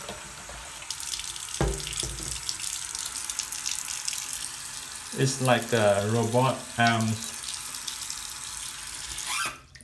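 Water running from a kitchen sink faucet fitted with a swivel aerator, a steady splashing stream under a person speaking, with clatter and a brief louder burst.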